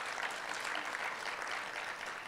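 Applause from a conference audience at the SATVETSA Conference 2024, a short steady patter of many hands clapping, fairly faint and distant, with no talking over it.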